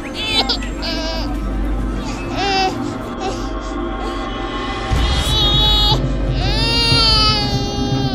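An infant cries in loud, wavering wails near the listener, with rising and falling bleat-like cries continuing throughout.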